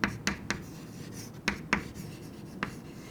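Marker or chalk writing on a board during a biology lesson on landscapes, a handful of short scratchy strokes in quick bursts, close and moderately loud, with no talking.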